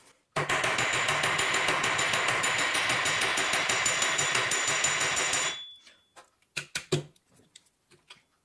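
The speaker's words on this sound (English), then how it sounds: "using a hammer, you're going to tap everything down, including the pin in the middle" A hammer tapping down the central pin and fittings of a handmade leather shotgun licence wallet, a dense steady run of rapid taps for about five seconds, then a few scattered separate knocks.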